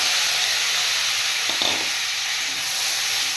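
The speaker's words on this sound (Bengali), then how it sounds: "অল্পখানি তেল, কালো জিরে আর শুকনো লঙ্কা লঙ্কা, আর হচ্ছে এটা ভাজা ভাজা হয়ে যাচ্ছে।" Black cumin and dried chillies fry in a little oil in a pan, giving a steady, soft hiss and sizzle with a brief clink or stir in the middle, close by and with no talking.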